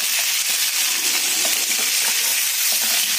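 Chicken pieces and masala fry in a pan with a loud, continuous sizzle and occasional stirring scrapes, heard up close with no voices.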